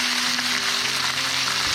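Fish sizzles hard in a pan of hot lard, butter and fat, a loud, steady, close crackling hiss that runs unbroken with no voices.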